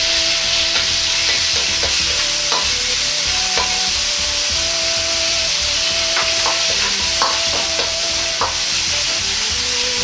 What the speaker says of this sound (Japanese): 豚ひき肉を入れて炒めていきます。